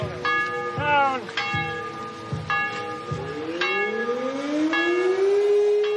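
Village church bells ring in repeated loud strikes while a siren rises and wails alongside them during a procession, both fairly close and layered together.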